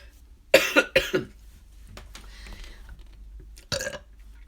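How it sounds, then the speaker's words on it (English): Two loud, close burps come in quick succession, followed by quieter rustling and then a sharp cough. "I'm just burping and, like, coughing"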